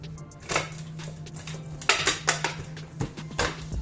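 Seasoned beef ribs rubbed with sweet smoked paprika go into a bowl, heard as a run of close clattering knocks and clinks of dish and utensil, irregular and fairly loud, with no talking.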